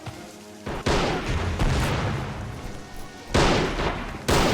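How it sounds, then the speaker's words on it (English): Explosive bursts of gunfire and bazooka blasts from the Army Men of War game, with several loud booms and crackling volleys arriving in quick succession over a constant battle din. "Fire from the bazookas. Exchanging a lot of fire."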